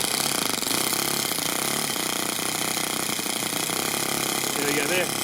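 A Toyan FS-S100AC miniature four-stroke engine kit runs rich after starting, giving a fast, loud, buzzing chatter that stays steady throughout, with a voice talking over it.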